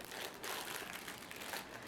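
Plastic packaging bag crinkling steadily as it is handled while unwrapping a shipped item, a soft continuous rustle with no talk.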